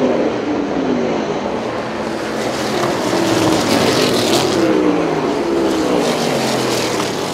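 USAC Silver Crown race cars roar around the Du Quoin dirt oval, a loud, dense engine drone with pitch sweeps as cars pass one after another.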